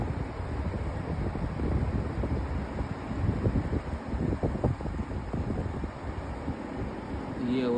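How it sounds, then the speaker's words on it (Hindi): A Haier 2-ton air conditioner runs in a room with the fans switched off, giving a steady, loud broadband whoosh and hum that continues without a break. "ये आवाज़ किसी और चीज़ की नहीं, नॉर्मल एसी की है।"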